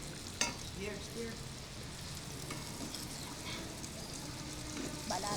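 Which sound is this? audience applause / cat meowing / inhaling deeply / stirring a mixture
stirring a mixture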